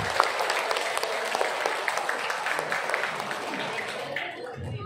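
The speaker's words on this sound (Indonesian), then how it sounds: "Tepuk tangan buat guru di sekolah." Sustained applause from a crowd at an Islamic elementary school graduation ceremony, steady and fairly loud, fading slightly toward the end.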